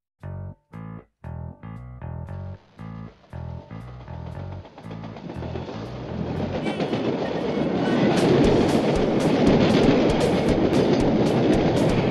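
A train crossing the Ivančice viaduct, beginning with a rhythmic series of wheel clatters over rail joints, then swelling into a loud, continuous rumble and roar as it passes close by.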